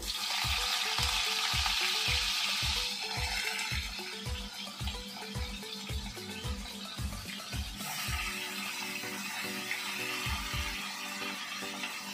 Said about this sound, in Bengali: এদিকে আমি বসালাম এখন বিড়ালদের মাছ